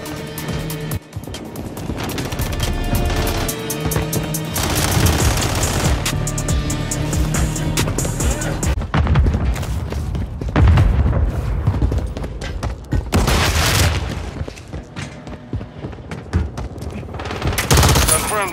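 Rapid gunfire from a Call of Duty match, dense bursts and booms running almost continuously, loud and close, with brief lulls and scattered game voices beneath.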